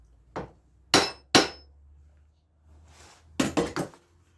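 Metal hammer blows driving a bearing onto a mandrel: three sharp separate strikes, a pause, then a quick cluster of three or four ringing impacts, close and loud over a low steady hum.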